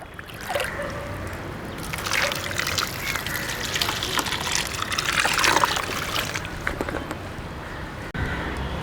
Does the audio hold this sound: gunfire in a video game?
no